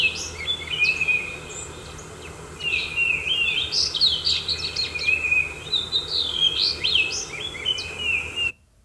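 Wild birds sing in early spring: a steady stream of high chirps, trills and tweets overlapping from several birds, fairly close and clear over a quiet background, ending abruptly near the end.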